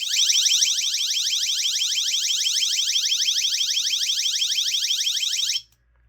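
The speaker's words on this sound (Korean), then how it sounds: "이 부분을 당기시면 경보음이 나오게 됩니다." A personal safety alarm built into a Redlancer K6R Safety flashlight, rated at 100 decibels, gives a loud, piercing, rapidly pulsing electronic warble that sounds continuously for over five seconds, then cuts off abruptly.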